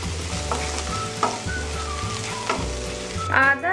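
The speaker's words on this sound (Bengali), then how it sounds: "আদা আর কাঁচা লঙ্কাটাকে আমি ভালোভাবে তেলে ফ্রাই করে নেবো" Grated ginger and green chilli frying in oil for a potato curry, a dense close sizzle with a few scraping stirs and faint tonal hums underneath.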